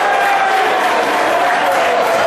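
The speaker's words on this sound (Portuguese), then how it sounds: "No final, torcida alvinegra comemorou a classificação, a segunda fase da Série D." Alvinegra supporters of Central celebrate qualification for the second round of Brazil's Série D at a football match, a dense, steady roar of crowd noise and applause that stays loud and continuous throughout.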